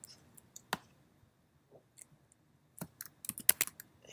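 Computer keyboard typing quiz instructions into a Schoology settings page: a few sparse, isolated key clicks early on, then a quicker cluster of keystrokes near the end, quiet and close with no talking.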